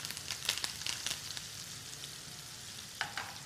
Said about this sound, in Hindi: इसके तड़के में आप चाहें तो मेरे पास कड़ी पत्ता है